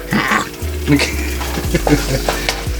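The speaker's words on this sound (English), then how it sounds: "So get that sauteing there." Garlic and onion sauté in a pan for Filipino Bicol Express, sizzling loudly up close with stirring scrapes, a low hum underneath and a faint voice briefly in the background.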